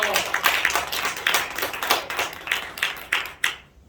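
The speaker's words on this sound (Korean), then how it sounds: "다 함께 박수 영광 드립니다." Church congregation at a general assembly clapping together, a fast run of overlapping hand claps with a loose, uneven rhythm, fairly close, ending abruptly after a few final claps.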